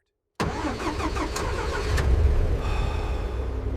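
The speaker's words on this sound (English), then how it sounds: "Engines refused to start." A car engine turns over in the cold, a steady mid-pitched motor rumble with a few sharp mechanical clicks early on, loud and close, settling into a rough continuous run without catching cleanly.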